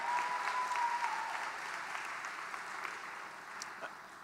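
A university convocation audience applauds scholars, a broad wash of clapping that starts strong and gradually thins and fades, with no speech over it.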